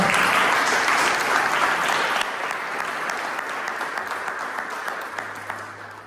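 A church congregation gives a strong round of applause to the Lord, dense clapping that starts loud and gradually fades over several seconds, with a low sustained tone entering near the end.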